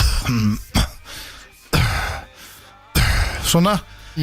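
A person imitates a man coughing, making several short, loud throat-clearing coughs in bursts separated by pauses, mixed with talk.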